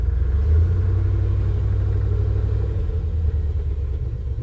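A vehicle engine with a throttle body injection (TBI) fault runs close by as a steady low rumble, faltering slightly near the end, with no speech.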